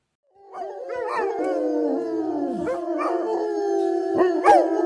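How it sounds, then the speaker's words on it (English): Several dogs howl together in long, wavering overlapping tones that rise and fall, close and fairly loud, with a few short yips breaking through near the end. "all the dogs are howling"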